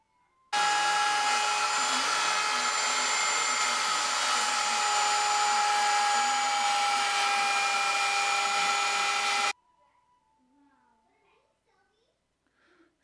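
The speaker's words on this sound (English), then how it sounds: "I'm just setting the depth of my router, and then I'll make the first cut." A wood router cuts a round recess into a woodworking charging stand. It holds a loud, steady, high-pitched whine for about nine seconds and then stops abruptly, leaving quiet.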